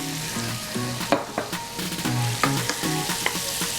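Sweet yellow onion frying in rendered bacon fat, a continuous close sizzle broken by sharp spatula scrapes and clicks against the pan, with no talking.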